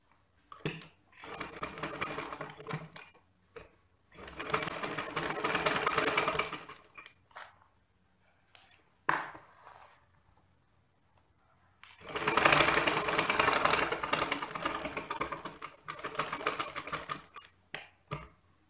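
Sewing machine stitching the darts of a skirt in several bursts of rapid, even mechanical chatter, close and clear, with short pauses and quiet handling between runs.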